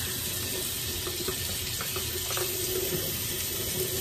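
Tap water running steadily into a sink to wet a brush during a skin care routine, a constant close splashing hiss with no talk.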